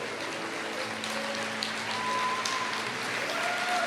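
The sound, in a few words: congregation applauding in church service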